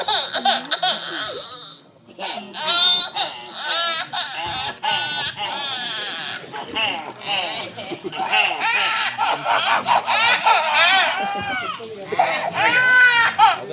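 On a comedy drama stage, a voice imitates a baby's wailing cry in long, wavering bleat-like bursts, loud and close, alternating with performers talking and laughing.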